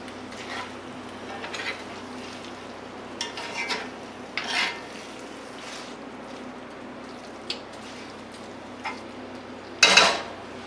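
Pasta and sauce cook at medium heat in a pan for cheesy garlic bread pasta, giving a soft steady sizzle under scattered scrapes and clinks of stirring, with a louder clatter near the end.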